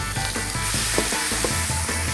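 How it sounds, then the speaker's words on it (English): Shrimp sauté in oil in a pan over medium-high heat, a steady close sizzle and crackle with small pops scattered throughout, no talking. "I'm gonna show you how we saute our shrimp"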